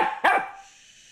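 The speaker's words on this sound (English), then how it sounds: "No barking." A Goldendoodle puppy gives a single sharp, close bark that ends in a short ringing tail, loud and alone with no talking over it.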